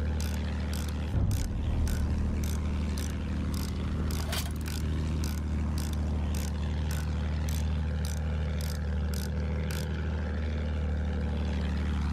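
Aircraft drone from a propeller plane flying in the Battlefield 1 World War I shooter game, a steady engine hum throughout with repeated sharp clicking bursts over it.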